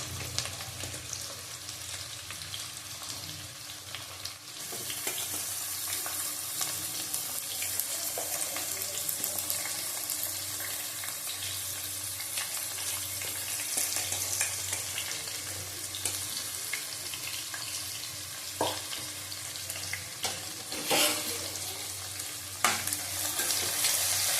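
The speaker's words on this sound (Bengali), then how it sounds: "খুব ফাটে গরম মশলা যতই ফাটি তাও ফেটে আসে" Whole garam masala spices crackle and sizzle steadily in hot oil, a dense continuous frying hiss with scattered sharp pops and a few louder bursts, close up with no talking.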